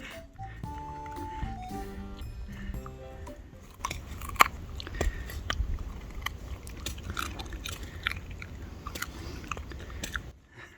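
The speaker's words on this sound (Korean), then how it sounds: "고구마 먹는 거 보세요" A dog chews a large freshly harvested sweet potato up close, giving repeated crunchy bites and wet mastication sounds, with light background noise and a little laughter early on.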